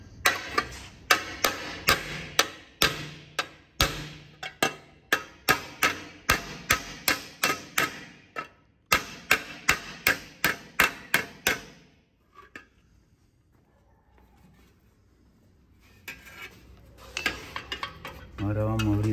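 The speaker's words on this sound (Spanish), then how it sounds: "Vamos a usar este martillo de pelita" Bodywork hammer beating a badly damaged car panel, a rapid series of loud metallic blows at a steady rhythm that stops suddenly, followed by quieter scraping and handling sounds with a few softer knocks.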